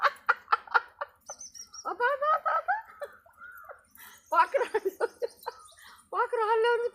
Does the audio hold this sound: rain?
no